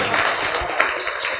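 Audience at a Kul Hind mushaira poetry gathering in Amravati breaking into loud, dense applause for a poet, a continuous close wash of clapping with no talk.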